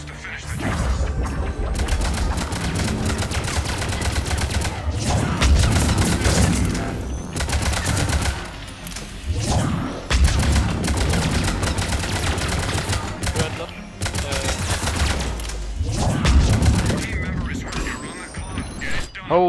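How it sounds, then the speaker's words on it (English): Phantoms in Mass Effect 3 keep up dense, rapid gunfire, with bursts of crackling shots and impacts in a loud, busy firefight. Voices are heard intermittently under the shooting. "What are they shooting me with? I never know with these phantoms."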